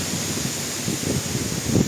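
A gust of wind blows along the road from Truskavets toward Boryslav. Steady, close rushing and buffeting fills the whole short stretch, with no speech.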